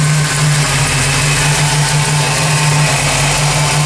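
A 1979 AMC AMX with a 304 V8 idles on a dyno, a loud, steady, even rumble with a strong low hum that holds constant throughout without any talking.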